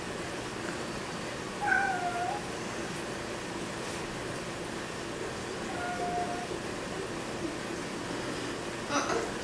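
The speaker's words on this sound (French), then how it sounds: "mon gros minou qui est bien vieux, qui arrête pas de miauler." An old house cat meows a few times, faint and fairly distant, over a steady hum of room noise during an at-home coloring session.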